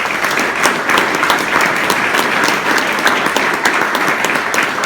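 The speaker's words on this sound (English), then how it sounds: "He deserves a round of applause" Loud, continuous crowd applause in a hall at a county executive's budget speech, many hands clapping in a dense, even roar that holds throughout without any voices.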